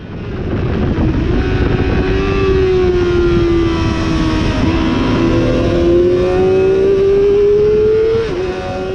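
A 600cc racing motorcycle is at full throttle on the Assen circuit. The engine note is loud and close, its pitch climbing steadily through a long pull, dipping briefly, then rising again before easing off near the end.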